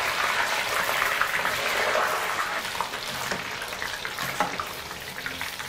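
Cassava pieces fry in hot oil with a steady, dense crackling sizzle that runs throughout, close and fairly loud, with scattered sharper pops rising out of the bubbling.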